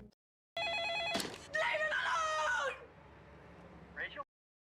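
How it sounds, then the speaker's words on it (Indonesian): Telephone ringing in the 2002 horror film The Ring, repeated bell-like rings with a bright harmonic tone, mixed with other film sounds and a brief closing burst. "Telepon itu pun berdering lagi,"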